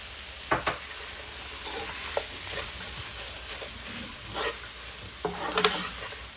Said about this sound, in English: Medium heat, and I'm frying it because this is gonna go into the yuca.